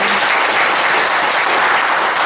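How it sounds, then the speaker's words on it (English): A crowd claps loudly and steadily, close and dense, sustained for about two seconds without any gaps. "So I just want you to give them a round of applause for standing firm"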